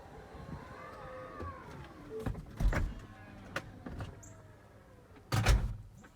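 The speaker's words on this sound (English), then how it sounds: "So I can individually close the falcon wing doors by just pressing on the button, and I can also close the trunk." The falcon wing doors of a Tesla Model X close electrically, giving a soft motor whir with faint clicks and two louder thumps as they latch. The sound is quiet and nearby.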